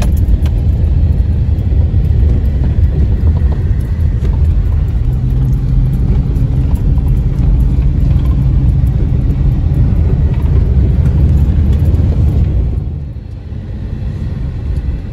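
A motorized tricycle drives along a road, its engine a loud, steady close rumble that eases off and drops in level near the end.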